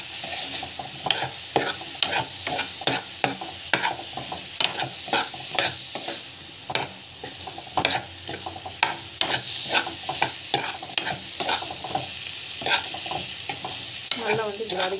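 Raw banana pieces tossed with chili powder sauté in a pan, rhythmic scraping spoon strokes repeating every second or so over a light, steady sizzle, close and without talk.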